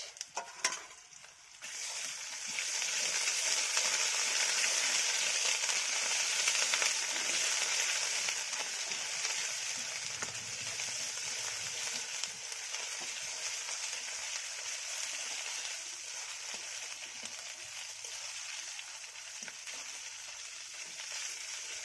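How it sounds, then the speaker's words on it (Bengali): A garlic, ginger and cashew paste masala fries in a pan with a loud, continuous close sizzle and hiss that swells after a short start and holds steady, with faint stirring underneath and no talking. "মশলাটা ভালো করে ভাজা হয়ে গিয়েছে।"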